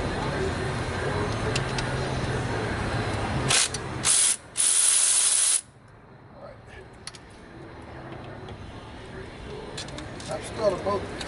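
A ratchet clicks in several short bursts while working the top starter bolt loose on a 1988 Mazda 626 engine, loud and close, with quieter background noise around it.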